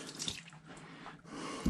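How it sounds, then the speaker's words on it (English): Water is tossed onto gold sluice mats during a multi-sluice cleanup, giving a short, soft splash and trickle followed by faint dripping, quiet and close, with no talking. "I just threw a little water on there to see how level it was."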